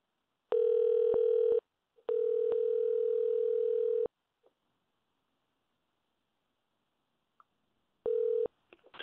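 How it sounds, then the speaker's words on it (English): A telephone line hums with a steady dial tone broken into three bursts, separated by short silences, brief clicks and a few dial pulses toward the end, with no talking. "Dialing the phone."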